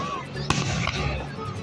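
Fourth of July fireworks pop and crackle outdoors, with one sharp burst followed by a weaker second bang amid continuous crackling, while people talk.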